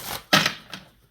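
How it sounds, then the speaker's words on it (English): Oracle cards being shuffled by hand, two or three quick papery riffles and slaps close up, brief and crisp in a quiet room. "I'm going to shuffle over here"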